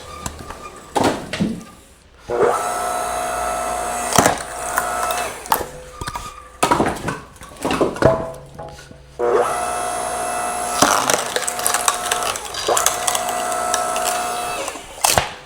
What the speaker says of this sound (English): It is super nice having this electric splitter in the garage.